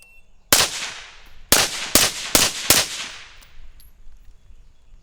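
Five sharp, loud AR-15 rifle shots from a Radian builder's kit rifle ring out in a five-round drill at 10 yards: one shot, a pause, then four quicker shots, each with a ringing outdoor decay.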